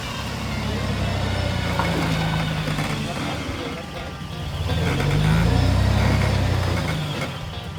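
A Toyota Landcruiser rumbles down a steep, washed-out hill track near Coffs Harbour, its engine held at low revs with a steady low drone that rises and falls, close and continuous.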